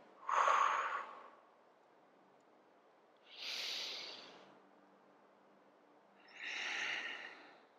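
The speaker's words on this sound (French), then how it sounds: "Je respire ici. 2 respirations" Slow yoga breathing during a seated floor sequence: three close, soft breaths, a breathy inhale, then a long sighing exhale, and another inhale, separated by quiet pauses.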